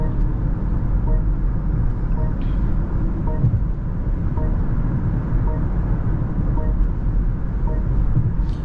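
A 2025 BMW X7 SUV cruises along a busy Indian highway, heard from inside as a steady, even drone of engine and tyre noise with faint passing traffic.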